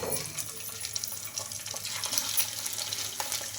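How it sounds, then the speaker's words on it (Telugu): Pieces made from ration rice shallow-fry in a small amount of hot oil, giving a faint, continuous crackling sizzle with scattered pops and no voices. "చూడండి ఎక్కువ డీప్ ఫ్రై లేకుండా తక్కువ ఆయిల్తో అయితే ఫ్రై చేసుకుంటున్నాం"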